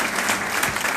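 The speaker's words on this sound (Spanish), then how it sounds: "Mil gracias y un aplauso a Juan Carlos, a Eduardo y a Felipe." A brief burst of steady audience applause at a local development and peace panel session, dense clapping filling the whole second without pause.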